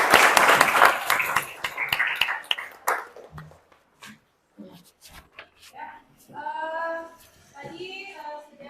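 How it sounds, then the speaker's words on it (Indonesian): Classroom applause for a student group at a vocational high school, a burst of clapping from many hands over the first three seconds, then thinning to scattered claps as a teacher's voice resumes. "kita kasih aplaus untuk kelompok 5 ya"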